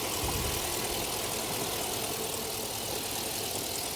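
A Ford 7.3 liter Godzilla gasoline V8 idles steadily in a cold, snowy setting, a constant broadband rumble with no variation in level and no talking.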